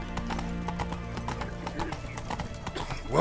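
Roach, the horse in The Witcher 3, gallops with rapid, steady clip-clop hoofbeats amid other in-game sound, then gives a loud neigh right at the end.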